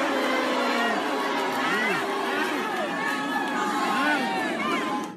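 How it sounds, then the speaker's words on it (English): Women in a crowd, some wearing anti-Lochte t-shirts, chanting a repeated word amid loud, busy crowd noise with shouting voices rising and falling over a constant babble. "a few women in the crowd wearing t-shirts with Lochte written on them covered by a no symbol can be heard chanting"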